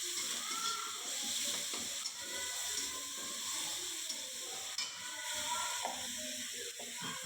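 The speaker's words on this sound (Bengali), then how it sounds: "এদিকে এবার মশলাটাকে আমি সুন্দর করে কষিয়ে নেব।" Onion, chili paste, turmeric and salt sizzle steadily in a pan for a fish curry, with a continuous broadband hiss and frequent scraping, clicking stirs throughout, close and fairly loud, no talking.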